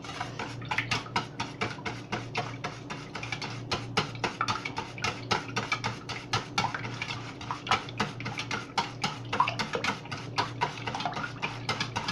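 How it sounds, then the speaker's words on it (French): Whisk or spoon briskly stirring milk for a salmon quiche in a bowl, a steady run of rapid scraping, tapping strokes close up, continuous for several seconds with no talk. "Donc je vais mélanger."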